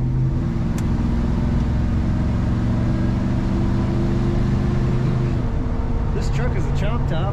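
A red 1969 Chevrolet C10 chop-top regular-cab pickup drives on dry winter roads, its engine giving a steady low rumble and drone, with a brief rising whine near the end.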